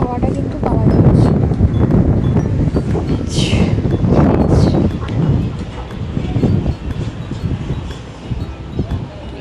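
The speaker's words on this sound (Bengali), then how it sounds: "এইখানটা অ্যাকচুয়ালি হাওয়াটা কিন্তু পাওয়া যাচ্ছে।" Wind blows steadily at the seaside at Digha, a broad buffeting rush across the microphone with gusty swells and no clear voices.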